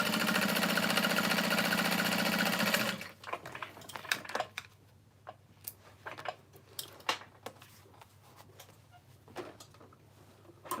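A sewing machine stitching across the top of fabric, a loud steady mechanical whirring for about three seconds, followed by scattered quiet clicks and handling noises.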